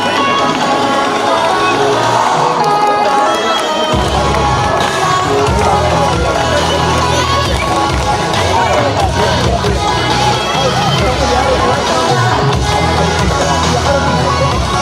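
A crowd at a youth football grand finals awards ceremony in Bengaluru cheers loudly for an under-11 defender of the season, a dense, sustained roar of voices and shouts that swells sharply after a few seconds and stays loud.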